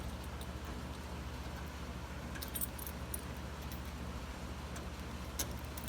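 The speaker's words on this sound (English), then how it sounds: "I guess it's not that key, it's one of these keys." Metal keys jangling and clinking on a ring while one is picked out for a Volvo G946B grader, light scattered rattles over a steady low idling hum, close and fairly quiet.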